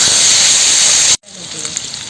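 Strong sizzling of potatoes frying in a wok, a bright continuous hiss that cuts out abruptly, then resumes softer with light crackles.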